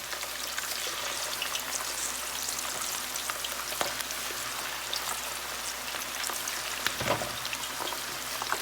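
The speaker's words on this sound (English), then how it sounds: "You hear that crackling and sizzling? That's what you want here. You know your oil is good and hot." Chicken wings crackling and sizzling in hot oil, a dense continuous frying hiss with fine pops throughout, close and steady.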